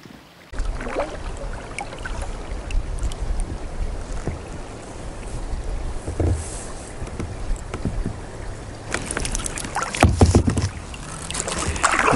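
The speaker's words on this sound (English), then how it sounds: "Been paddling for a while." A kayak is paddled through cool wilderness water, with steady splashing and swishing strokes under a continuous wash of water and wind, growing louder and busier near the end, and no voices.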